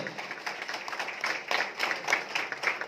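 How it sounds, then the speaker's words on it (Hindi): Applause from an audience at a Shirdi celebration, a steady crackle of many hands clapping at moderate volume, swelling slightly in the second half. "इनके लिए बहुत बढ़िया ताली होनी चाहिए"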